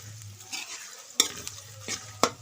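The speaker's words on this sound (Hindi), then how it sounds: "अब इसमें हम प्याज डालेंगे और इनको फ्राई करेंगे" Onions frying in hot ghee give a steady soft sizzle, broken by a few sharp scraping stirs of a spoon against the pan, close by and with no talking.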